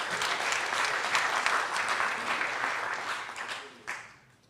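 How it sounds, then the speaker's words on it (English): A crowd at a graduation ceremony claps enthusiastically and steadily for a few seconds before the applause tapers off and fades out. "can we give a round of applause for the staff members on stage?"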